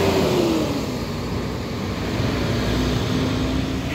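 A Sinar Jaya intercity bus pulls into a busy terminal, its engine a steady loud rumble with a gliding tone dropping in pitch as it slows, amid continuous background noise.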